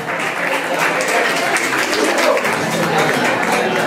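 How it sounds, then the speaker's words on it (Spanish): Lively applause for señora Mari at an eighteenth-birthday party, steady clapping from a nearby group mixed with chatter and voices throughout. "Fuertes los aplausos para la señora Mari"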